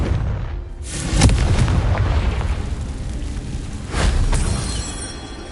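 The Confringo blasting spell in Hogwarts Legacy goes off as two booming blasts, the first just after the start and the second about three seconds later, each a sharp crack trailing into a rumbling roar.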